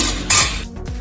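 A spoon scrapes and clinks against a metal pot while barnyard millet (bhagar) is stirred in boiling water. Two quick, close metallic scrapes are heard, with no talk.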